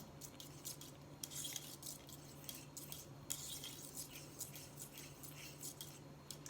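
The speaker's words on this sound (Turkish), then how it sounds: "Şimdi üzerine bir yemek kaşığı tereyağını ilave edip tekrar karıştırıyorum" A spoon stirs a chocolate pudding mixture with butter in a pot, giving soft, repeated scraping and light clinking strokes, faint and close, with a low steady hum underneath.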